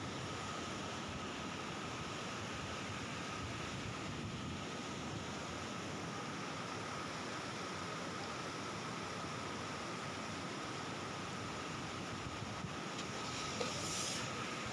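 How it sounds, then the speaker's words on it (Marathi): River water pours over the low Kalamgaon weir (bandhara) in a continuous, even rushing wash, heard from a distance for the whole span. "बंधाऱ्याच्या पाणी खाली आहे व पाणी खळखळ वाहते."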